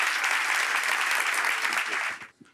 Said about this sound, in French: on l'applaudit pendant qu'il arrive